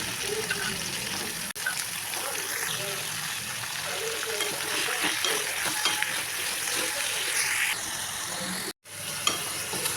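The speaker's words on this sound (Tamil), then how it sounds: "வதக்கிறதுக்கு கொஞ்சமாக எண்ணெய் சேர்த்து காஞ்ச மிளகாய், பூண்டு, வெங்காயம், தக்காளி, பீக்கங்காய், கேரட்டு, உப்பு கொஞ்சம் சேர்த்து வதக்கிடலாம்" Dried chillies, garlic, onion, tomato, ridge gourd and carrot with salt sizzle and crackle in a little oil, with steady stirring and scraping throughout and a brief clatter near the end.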